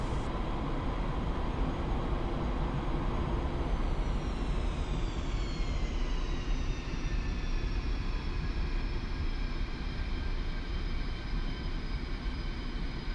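A fighter jet taxiing in DCS World, a steady loud engine roar with a whining tone that slowly drops in pitch, constant and unbroken throughout.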